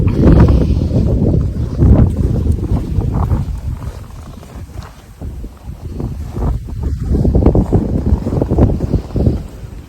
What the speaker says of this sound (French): C'est vraiment fou, là, le vent, il fait froid.